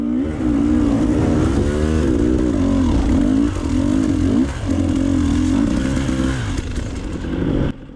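A four-stroke dirt bike engine on a trail revs loud and close, its pitch rising and falling with throttle changes over a steady motor drone.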